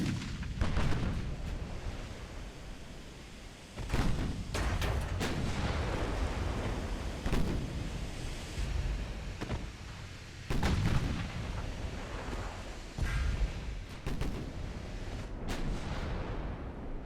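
Heavy warship guns firing in the naval battle game Ultimate Admiral: Dreadnoughts, with loud booming salvos at irregular intervals, some of them in quick pairs, over a continuous rumble of battle noise and no talk.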